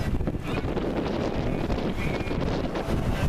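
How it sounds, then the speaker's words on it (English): A sailboat presses fast upwind through choppy water, a constant loud roar of wind buffeting the microphone mixed with rushing water hiss, steady and close throughout without speech. "it's a fast, pretty fast sail right now"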